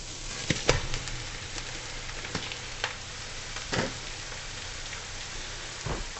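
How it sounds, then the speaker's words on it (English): Ground beef frying in a pan with softened onions, a steady quiet sizzle with occasional sharp crackles and scraping stirs of a metal spatula, no talking. "Now we're going to be adding the ground beef."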